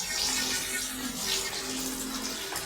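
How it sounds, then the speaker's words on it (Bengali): Pieces of boal catfish frying in hot oil in a karahi, giving a steady, close, fairly loud sizzling hiss that runs unbroken throughout, with no voices. "কড়াতে তেল দিয়ে দিয়েছি, এখন মাছগুলো ভেজে নেব।"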